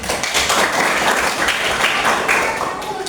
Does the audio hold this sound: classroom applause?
yes